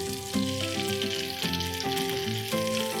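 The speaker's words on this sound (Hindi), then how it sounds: "इनको मीडियम आंच पे फ्राई करेंगे" Potato tikki cutlets frying in oil over medium heat, a steady close sizzle and crackle running throughout beneath sustained tonal background music.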